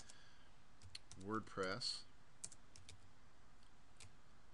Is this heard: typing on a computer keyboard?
yes